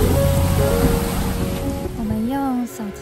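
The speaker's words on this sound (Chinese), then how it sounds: "听这个湖浪的声音， 它不是海，所以不是海浪。" Lake waves washing onto rocks below Marblehead Lighthouse at night, a steady broadband wash of water close by, with a voice speaking over it toward the end.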